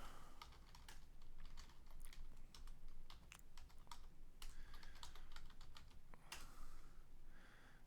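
Keys tapped on a computer keyboard while entering a command in a Linux terminal, a quiet run of irregular clicks at close range with no voices.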